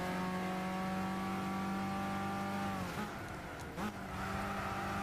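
A Volkswagen GTI VGT engine in Gran Turismo 6 holds a steady high-revving drone, then drops abruptly through two quick gear shifts and climbs again, loud and close with no talking.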